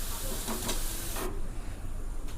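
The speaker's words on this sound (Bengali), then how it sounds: "একটু মাঝে মাঝে এইভাবে নাড়িয়ে দিতে হবে যাতে চারিদিকে ভালোভাবে পেঁয়াজগুলো ভাজা হয়ে যায়" Onions frying in hot oil for chicken korma, with a steady close sizzle and a few scraping stirs of a utensil in the pan before the hiss drops away.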